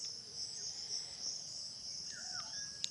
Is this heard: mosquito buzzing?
yes